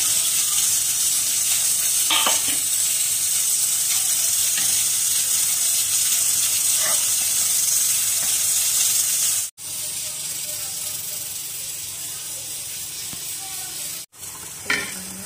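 Singhi fish cooks in a pan with water added for a fish curry, producing a loud, continuous close hiss and sizzle with two brief dropouts.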